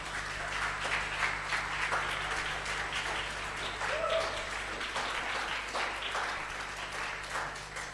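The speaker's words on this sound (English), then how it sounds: "But please give them a huge round of applause." Steady, moderately loud applause from a crowd at a birthday celebration event, continuous clapping throughout with a low background hum and a few audible voices mixed in.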